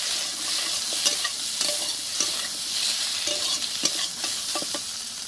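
Prawns sautéing in a hot pan with salt, turmeric and chili powder, a steady close sizzle broken by scraping stirs from a spatula, with no talk.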